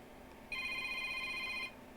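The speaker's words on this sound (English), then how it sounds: "And the phone is ringing again." A telephone rings once in a MacBook repair shop, a bright electronic trill lasting about a second over a quiet room hum, with no voices.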